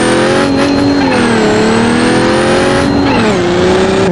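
Car engine held loud and close while driving in third gear, a steady droning rev that rises and falls with small shifts in pitch and keeps a continuous roar throughout, with no talking.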